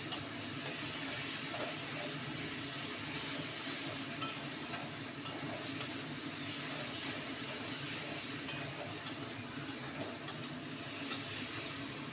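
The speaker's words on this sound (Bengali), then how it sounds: "লঙ্কা টমেটো বাটা, দিয়ে মশলাটা এবার আমি কষাবো।" Chili and tomato paste masala being sautéed in a pan for a Bengali fish kalia, giving a steady close sizzle with soft stirring scrapes and a few brief clicks, no talking.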